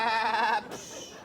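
A single sheep gives one short, wavering bleat, near and clear, that breaks off into a brief quieter tail.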